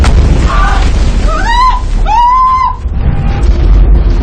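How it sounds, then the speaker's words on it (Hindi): Cannon bombardment on the weakened walls of a besieged city, a continuous heavy low rumble with rising and falling whistling tones passing over it. "मेहमद ने अपनी फौज को कमजोर हो चुकी दीवारों पर तोपों का हमला तेज करने को कहा।"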